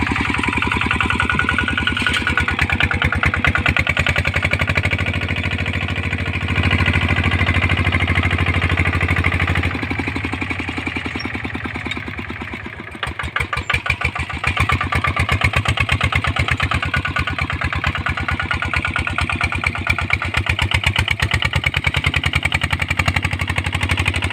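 A vehicle engine drones loudly and continuously beside a newly dug dirt road, with a rough, pulsing rumble that dips briefly midway before surging again.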